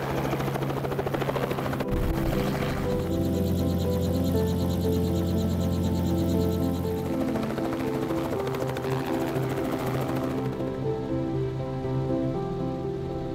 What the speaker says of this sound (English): we want to launch a helicopter here